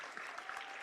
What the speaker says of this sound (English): He gets a round of applause from the fans here inside the Southwest Basketball Center.